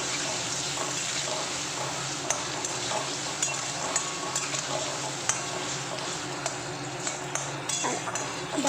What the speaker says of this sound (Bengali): আর তার মধ্যে নুন হলুদ দিয়ে ভালো করে আমি এখন আলুটা ভেজে নিচ্ছি